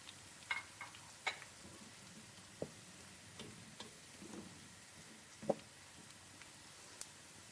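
Onion and ginger frying in mustard oil with cumin seeds, a soft low sizzle broken by faint scattered pops and spoon taps, quiet and close with no talking.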